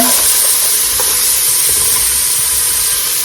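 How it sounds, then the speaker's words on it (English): Vegetables stirred in a hot pan for a home-cooked Sunday dinner, giving a loud, steady sizzle and hiss of frying with soft scraping under it, close and continuous. "take and give these a stir"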